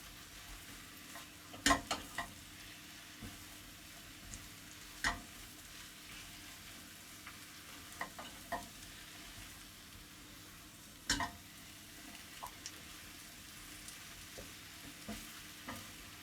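Mushrooms fry in a pan for beef bourguignon, giving a steady low sizzle throughout with scattered sharp spatula scrapes and taps, fairly quiet and close.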